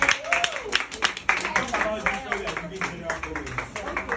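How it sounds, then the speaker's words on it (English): A classroom audience claps for a student group after their presentation: scattered, brisk claps run throughout, mixed with people talking over them. "So please clap for them."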